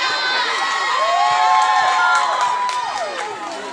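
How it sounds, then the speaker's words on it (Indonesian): Crowd at a high school event cheering, shouting and whooping loudly, a dense close wash of young voices that swells and then fades slightly. "Mari kita beri tepuk tangan yang meriah."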